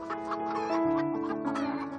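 Chickens cluck in a steady, close stream of short calls at feeding time on a poultry farm, with one drawn-out tonal note in the middle, no voices.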